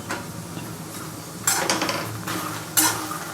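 Roasted makhana (fox nuts) tossed and stirred in a pan with spices, giving a steady rustling scrape broken by two sharper metallic clanks of the spoon against the pan, close and without talk.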